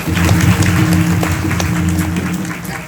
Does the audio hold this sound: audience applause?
yes